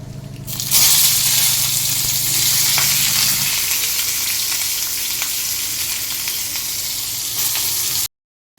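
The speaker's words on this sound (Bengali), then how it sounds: "এদিকে আমি তেল গরম বসিয়ে দিয়েছি" Cumin and onion go into hot oil and fry with a loud, continuous sizzle that bursts up at the start, then settles into a steady crackling hiss until it stops abruptly.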